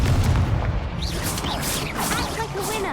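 A Confringo blasting spell explodes in Hogwarts Legacy, a loud low boom at the start that fades into rumbling, with a voice and whooshing effects layered over the tail.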